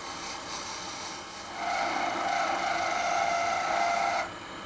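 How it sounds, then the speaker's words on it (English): A tool makes a peeling cut on a wood lathe turning a finial for a hollow form, a steady close shaving hiss that swells for a few seconds and then stops abruptly as the tool lifts away. "So I'm just going to go ahead and do a little bit of a peeling cut here."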